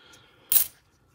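Coins from unwrapped bank rolls of quarters drop in a single short, bright metallic clatter, close and clear, with near silence before and after.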